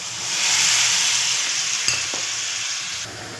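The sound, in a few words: fish curry simmering after adding tamarind water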